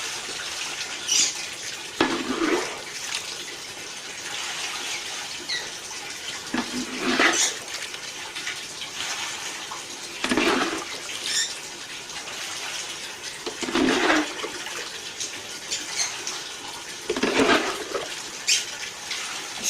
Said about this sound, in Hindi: वैसे पानी बहुत आस्ता निकलता है इसलिए इसको जग के साथ निकाल रहे हैं।